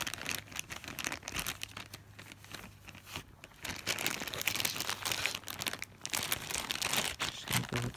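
Plastic packaging of a McDonald's Happy Meal toy crinkled and torn open, close, continuous crackling and rustling of moderate loudness, with no talk.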